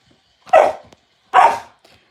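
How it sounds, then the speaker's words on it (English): Two sharp, loud barks from a dog named Dylan, close by, with a short pause between them and near silence around them. "Dylan, stop barking at him"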